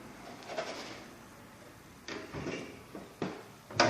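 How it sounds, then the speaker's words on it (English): A Hearthmaster wood stove by Kitchen Queen with a fully brick-lined firebox and a positive-locking firebox door, which is worked open with a few close metallic clunks and a sharp latch click near the end. "firebox door opens easily"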